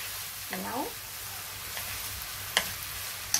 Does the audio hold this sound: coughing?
no